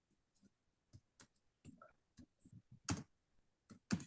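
Typing on a computer keyboard, with scattered clicks and short bursts of keystrokes in an irregular rhythm, close and fairly quiet, without talk.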